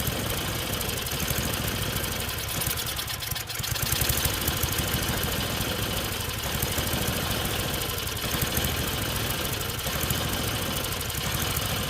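A carbureted Tecumseh snowblower engine near full choke runs loud and close, its steady mechanical roar rising and falling in slow surges throughout.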